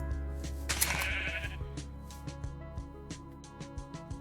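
Minecraft sheep bleating in a game world, several short nasal bleats overlapping at the start, followed by softer clicks and small game sounds.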